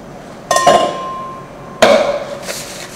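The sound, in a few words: chopping garlic with a knife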